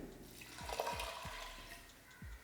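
A cup of water poured into a pot while making payasam, a sweet milk pudding, gives close, wet splashing with several gurgling plops at a steady pace, with no voices.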